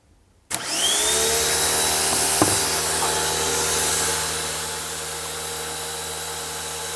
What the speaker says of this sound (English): So it sounds like this pump